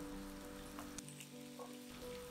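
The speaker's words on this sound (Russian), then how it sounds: "И отправляю нарезанную картошку в горячую сковороду." Cut potatoes hit hot oil in a frying pan with butter, making a steady, close, moderately quiet sizzle and crackle that runs through the whole short stretch.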